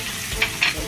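Soy sauce poured into frying Filipino adobo in a pan, a brief close sizzle with a couple of sharp hissing bursts.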